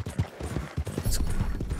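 A horse gallops in Red Dead Redemption 2, with quick rhythmic hoofbeats close by and a voice briefly over them.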